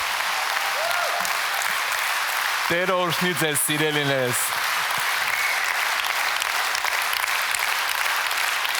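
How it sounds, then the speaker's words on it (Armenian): A church congregation claps loudly and steadily for the Lord, a dense continuous roar of hands throughout, while someone briefly speaks a blessing over it midway. "եկեք բարձր ծափարենք մեր Տիրոջը։"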